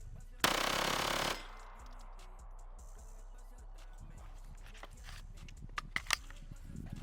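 A TX22 Mini MP7 rifle fires a rapid burst of shots lasting under a second, loud and close, followed by quiet handling clicks and faint movement.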